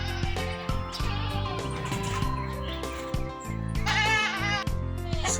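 Goats bleat repeatedly at close range on a backyard farm in Jamaica, their wavering cries overlapping in a steady chorus with a few bird chirps in the background.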